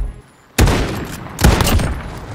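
Gunfire in the video game Modern Warfare comes in loud close bursts, a sharp volley followed by a second cluster of shots after a quiet start, with no talk.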